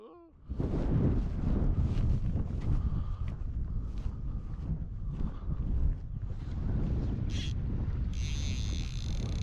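Cold northeasterly wind buffets the microphone beside a lake in Donegal, a loud, continuous rumbling roar with gusty swells and faint higher rustling layered on top.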